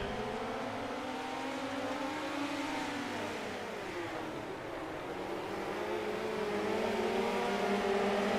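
Race cars at Lernerville during a Chandler Grand Prix qualifier, a steady loud engine drone with shifting pitch as the cars lap the track, engines swelling toward the end, no talk.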